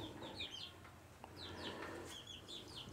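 Desi hens on a small poultry farm give soft clucks and short chirpy calls, several birds close by over a low ambient hum, with a brief flutter.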